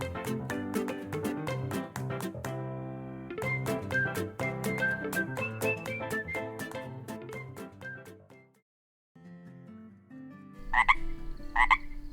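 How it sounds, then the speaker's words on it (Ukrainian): Rhythmic, tonal croaking frog sounds repeat over a musical backdrop, pause briefly, then return with a couple of sharper croaks near the end. "Дітки, ви чуєте? Хтось квакає."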